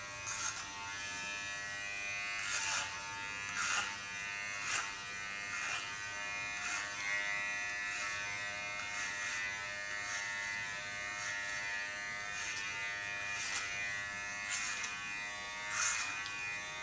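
Electric hair clipper buzzing steadily through a punk-style haircut, a close, constant whine with brief rhythmic surges as it moves through the hair.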